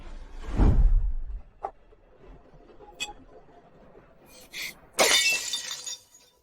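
Glass breaks and shatters: a heavy smash with a low thud starts the clip, then scattered small tinkles follow and a second bright, crackling shatter comes near the end, all close and loud.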